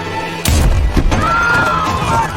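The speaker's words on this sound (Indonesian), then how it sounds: "Ledakan besar pun terjadi dan membuat suasana langsung berubah kacau." A large explosion in an action film: a sudden, loud blast with crashing, shattering debris that gives way to a sustained rumble and a thin ringing tone, with no voices.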